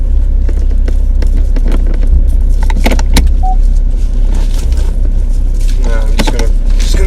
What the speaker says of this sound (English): Let's just get the car turned over here.